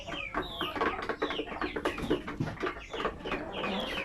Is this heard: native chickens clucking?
yes